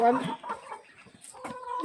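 Chickens cluck in a backyard poultry pen at close range, with several short, uneven calls through the stretch and a little background noise between them.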